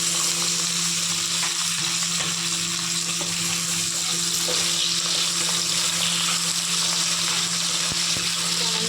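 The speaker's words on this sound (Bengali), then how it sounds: "এবার এই তেলের মধ্যে আমি গাটিগুলো দিয়ে দিলাম। গাটি আলুগুলো ভেজে নেবো।" Potatoes (gati alu, for a bhola fish dish) frying in hot oil, giving a steady, dense sizzle with a constant hiss throughout and no talking.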